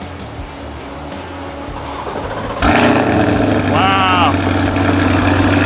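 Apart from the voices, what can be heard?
Chevrolet Corvette cold start, throaty engine idle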